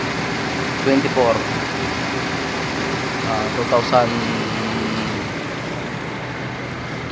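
A Nissan engine installed as a replacement runs steadily at idle nearby, a constant mid-pitched hum under someone talking throughout.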